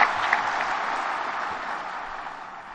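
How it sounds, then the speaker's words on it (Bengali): Applause from an audience at an event, a steady dense wash of clapping that holds through and fades slightly toward the end, with no voices rising above it. "আমরা সবাই মিলে আবার হাততালি দিয়ে, জোরে হাততালি দিয়ে অভিনন্দন জানাচ্ছি।"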